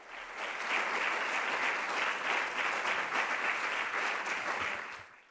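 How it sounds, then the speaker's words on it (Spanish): A dense wash of audience applause at a memorial ceremony and concert for victims of terrorism, rising quickly and holding steady and full for several seconds before tapering off. "quiero pedir un gran aplauso para Ángel Piñero"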